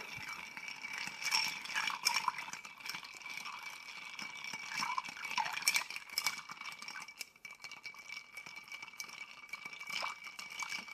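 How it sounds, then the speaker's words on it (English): Ice rattles steadily as an old fashioned cocktail is stirred in a glass, a continuous close clinking and jangling that runs the whole time with no voices. "Going to give this a good stir."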